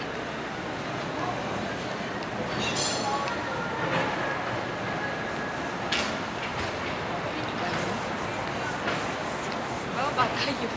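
Passenger train riding through the Philippines, giving a steady, close rolling rumble with rail clatter and faint squeals, while voices murmur quietly in the background.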